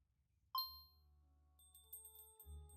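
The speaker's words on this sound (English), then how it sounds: "The cheerful ringing of the bell above the door is the only thing to welcome you when you step across Bookhook's threshold" Bright shop door bell above a bookstore entrance in a visual novel game, a single clear ding with a ringing tail and a few lighter tinkles, over a low steady hum.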